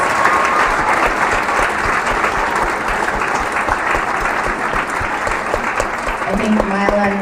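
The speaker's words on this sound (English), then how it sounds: "Let's have another round of applause for these great students." Audience applause for students at an award ceremony, steady loud clapping from a large crowd filling the whole stretch, with a brief voice entering near the end.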